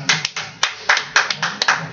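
Handclaps at a business presentation come in a loose, uneven rhythm of about eight sharp claps over two seconds, close and crisp, sounding like a small group or a few people rather than a full crowd.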